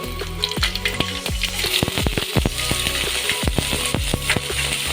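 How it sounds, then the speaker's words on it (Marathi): Chopped onion tipped into a hot pan of oil with garlic already browned, loud continuous frying sizzle up close with repeated sharp clicks and scrapes of a spoon against the pan. "आता आपल्याला कांदा घालायचा आहे."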